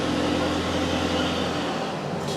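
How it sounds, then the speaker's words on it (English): A noisy truck passing outdoors gives a steady loud broadband rumble with a low engine drone, continuous throughout with no talk. "Sorry, it's a noisy truck."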